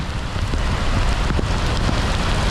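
Heavy rain pours down in a dense, constant hiss with scattered patters of drops, loud and close, no voices.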